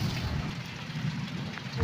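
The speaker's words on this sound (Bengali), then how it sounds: "দেখো বাইরে কেমন ভারী বৃষ্টি শুরু হয়েছে সঙ্গে হাওয়াও দিচ্ছে" Heavy rain falls outdoors with wind, a steady dense hiss that stays loud and unbroken throughout the short stretch.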